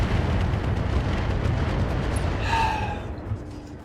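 Airstrike explosions in the mech game Roguetech, a continuous loud rumbling blast wash that fades toward the end, with a brief tonal whine partway through and no talking.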